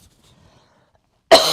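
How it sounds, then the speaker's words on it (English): A single short, harsh adult cough bursts out loud and close after more than a second of near silence. "hold on a second, I've got a cough."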